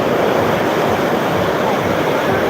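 Floodwater from heavy rain surges along carrying floating trash and debris, a dense continuous roar up close, with a faint voice partly under the rush.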